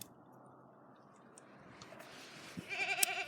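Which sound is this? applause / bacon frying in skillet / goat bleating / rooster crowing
goat bleating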